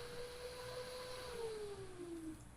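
Solar-powered 12-volt attic vent fans rated at 3,500 RPM whir steadily, with a sustained tonal hum that drifts gradually lower in pitch as the fans slow, heard close and alone without talk.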